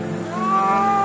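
A cow lets out a single drawn-out, resonant moo lasting about a second, close and clear with no voices around it.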